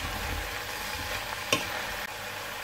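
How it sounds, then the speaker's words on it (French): Onions, peppers, courgettes and aubergines fry in a pan as they are stirred, a soft continuous sizzle with one brief utensil scrape, heard up close and without voices. "Et je viens verser donc mes oignons, mes poivrons, mes courgettes et je vais ajouter mes aubergines. Et je viens mélanger tout ça."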